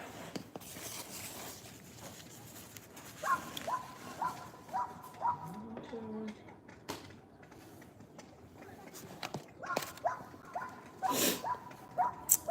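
A dog at a nearby dog park barks in short, distant bursts, a few spaced yips and woofs against quiet outdoor background, faint and intermittent.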